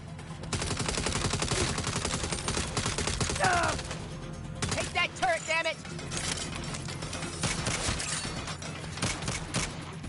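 Rapid gunfire from a turret in the video game Saints Row, a dense continuous rattle of shots under game music and shouted voices.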